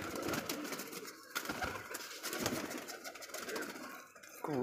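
Pigeons in a pigeon house coo softly and repeatedly amid a busy background of rustling and flapping, with several birds close together near a net.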